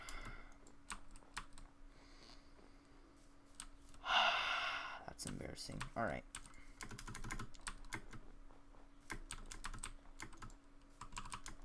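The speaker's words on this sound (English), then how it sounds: "My keyboard is pretty loud." Loud computer keyboard typing in bursts of rapid clicks during a Minecraft Hardcore Games session, with a sharp breathy sigh and short spoken remarks between stretches.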